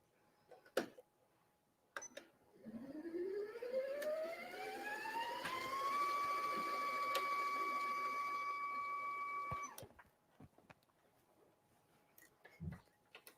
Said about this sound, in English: the bobbin's winding